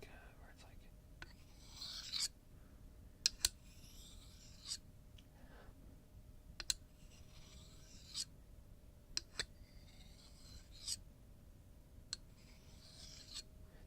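Soft, close scratching and rubbing strokes imitating the sound of sharpening a blade, repeated in short passes with occasional light taps, quiet and intimate.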